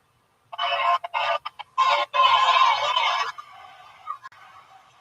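A man imitates a rooster crowing in front of an audience, delivering a loud, close series of choppy bursts that stretch into a long, strained crow and then trail off into quieter, scattered sounds.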